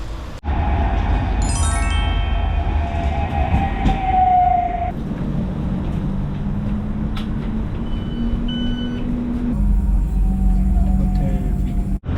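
A tram in Tallinn, Estonia rumbles steadily nearby with a loud low drone, a rising electric whine and a warning bell or tones near the start, ending abruptly.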